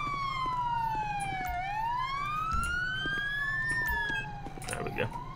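A police car siren in the LSPDFR video game, from a sheriff's Charger patrol unit, wails in long rising and falling sweeps, loud and continuous, with faint engine and road rumble underneath.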